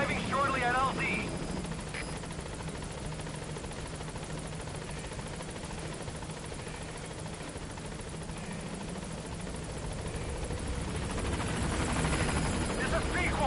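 The Pequod support helicopter arrives at a landing zone in Metal Gear Solid V, giving a steady whirring rotor drone with low thumping, under game voices and effects.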